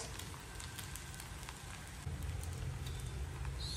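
Boiled rice stir-fried in a pan for egg fried rice, giving a steady close sizzle and crackle with soft scraping, growing a little louder partway through, with no voices.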